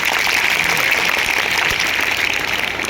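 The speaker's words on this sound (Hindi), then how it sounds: "इनके लिए तालियां बजाइए" An audience of students at a school science program against superstition claps steadily, a dense continuous patter of applause at moderate distance with no voices.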